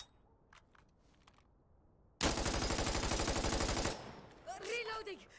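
Rapid automatic MP7 fire in Insurgency: Sandstorm, a loud, dense burst of about a second and a half that breaks in after quiet, followed by clattering handling noise.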